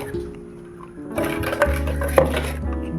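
Brownie batter with sugar stirred by hand in a bowl; a steady scraping, sloshing stir with a couple of sharper knocks against the bowl, close and moderately loud.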